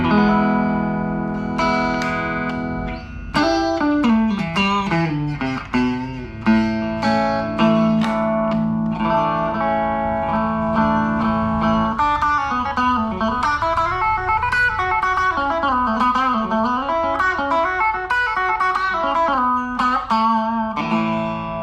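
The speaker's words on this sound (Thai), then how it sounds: "เดี๋ยวผมจะให้เพื่อนๆ ได้ฟังเสียงคลีนจาก ตู้ก่อนนะครับ" Clean electric guitar played through an amplifier, picked notes and ringing chords with sustain and a touch of reverb, alone with no talking.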